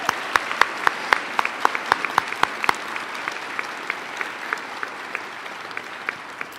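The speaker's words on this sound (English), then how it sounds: "Let's give them a round of applause one more time." Audience applause fills a high school gymnasium at a senior awards day, a steady wash of many hands with sharp individual claps standing out close by, gradually thinning and softening.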